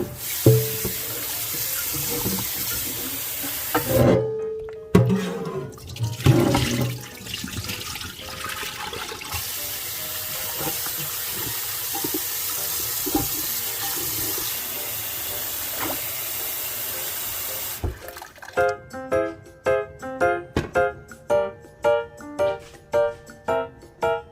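Water from the first boil of beef neck bones pours out into a sink, followed by a running tap refilling the pot, then a string of regular splashing knocks near the end; close and fairly loud.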